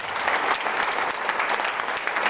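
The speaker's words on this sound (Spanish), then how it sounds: "a quien hoy le pido un fuerte aplauso" Loud, close applause from an audience at a trade union council meeting honouring maestro Enrique Carrera Vega, brisk overlapping claps holding steady and strong throughout.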